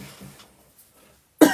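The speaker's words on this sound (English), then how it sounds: "Cough." A single short cough bursts out near the end, close and fairly loud, after a moment of near silence with faint room noise.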